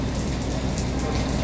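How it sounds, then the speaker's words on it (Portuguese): Heavy rain drums steadily on a vehicle driving through Barrocão in northern Minas Gerais, Brazil, a dense continuous hiss with no gaps. "Chovendo bastante, graças a Deus, ó."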